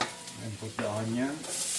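Onion and garlic sauté in a hot pan, a continuous close sizzle with some stirring, while a voice briefly hums or speaks over it.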